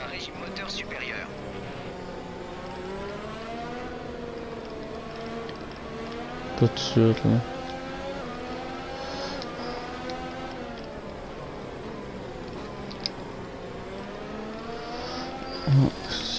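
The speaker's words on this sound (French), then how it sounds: "Passe à un régime moteur supérieur" F1 car in F1 2019 running at high revs, a continuous whining engine tone climbing and falling in pitch as it shifts, with someone talking over it and a few brief clicks.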